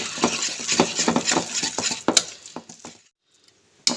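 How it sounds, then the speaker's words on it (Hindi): A spoon works spices into yogurt in a bowl for a paneer kathi roll, making a quick run of soft scraping taps and light clinks that stops, leaving near silence before one last knock. "दही के साथ मैं सारे मसाले को अच्छी तरह से मिक्स कर लेती हूँ।"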